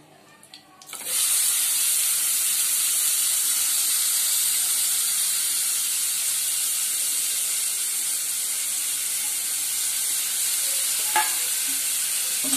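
Chopped onion drops into hot oil in an already-heated kadhai for an egg curry masala, setting off a sudden loud, steady sizzle that holds strong and close throughout, with faint stirring scrapes.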